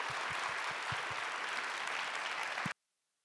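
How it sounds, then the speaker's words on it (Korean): A church congregation at a young adults' worship service claps loudly and steadily, with low thumps underneath, before the sound cuts off abruptly. "우리 인사드릴 때 큰 박수로 우리 맞이해 주시기 바랍니다."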